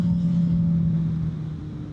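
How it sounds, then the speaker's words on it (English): A Yamaha FZ6 Fazer motorcycle with an aftermarket exhaust idles or runs at low revs, a steady loud engine drone with a strong low hum that eases slightly toward the end. "It has an aftermarket exhaust,"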